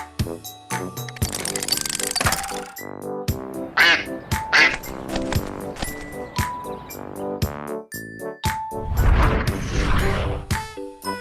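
A duck quacks over and over in a busy run of clipped calls mixed with bright tonal notes, loud and close, with no talk.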